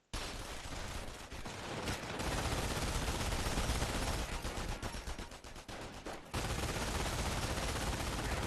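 A World War II machine gun firing in Company of Heroes, long dense bursts of loud, continuous rattling gunfire that fill the whole stretch with almost no pause.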